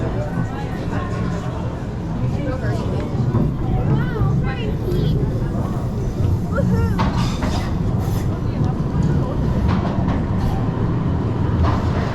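An Amsterdam tram rolls along a busy street near Muntplein, a loud steady rumble with occasional squeals, mixed with street noise and the babble of nearby people talking.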